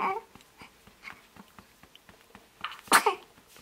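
A single sharp sneeze bursts out near the end, loud and close, after a stretch of quiet with faint soft ticks and a brief murmur at the start.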